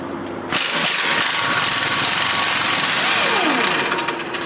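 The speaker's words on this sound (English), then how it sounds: "So now we're going to remove the lower shock bolt, 21mm for the nut, 21mm for the bolt." An impact wrench rattles loudly and continuously for about four seconds, loosening the 21mm lower shock bolt on the rear shock of a RAM truck, starting abruptly after a brief quiet moment.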